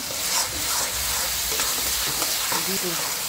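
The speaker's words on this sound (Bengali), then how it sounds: "এই যে পেঁয়াজ, টমেটো আর আদা রসুন বাটাটা ভেজে নিচ্ছি।" Onion, tomato and ginger-garlic paste fry in a pan with a steady loud sizzle, joined by scraping stir strokes, the sharpest cluster near the end.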